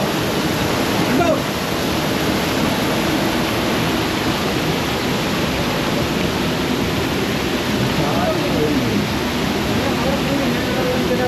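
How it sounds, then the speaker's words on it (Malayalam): A forest waterfall rushes as a dense, steady roar of white water that fills the whole stretch at constant loudness, with no clear voices above it. "ഇത് കണ്ടിട്ട് വെള്ളം കൂടുന്നുണ്ടോ സതീഷ?"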